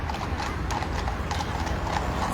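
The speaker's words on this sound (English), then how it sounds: "And listen to those horses," Horses' hooves clip-clop steadily on a Paris street near the Seine, with a busy city hum underneath and no talking.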